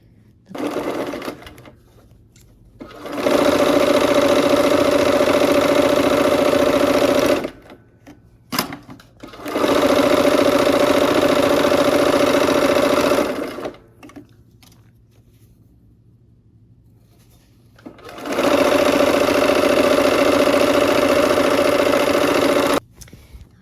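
A sewing machine stitches pinned rows of a quilt block, running in three long steady bursts of several seconds each with quiet pauses between, close and fairly loud.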